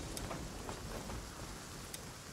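Rain falls in the survival game ASKA, a faint, steady hiss of drops with a few brighter ticks scattered through it.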